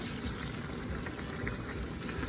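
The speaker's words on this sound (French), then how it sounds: "je mets un peu d'eau" A little water poured into a cooking pot of vegetables, a steady soft liquid hiss and trickle, faint and continuous without voices.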